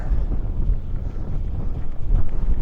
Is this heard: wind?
yes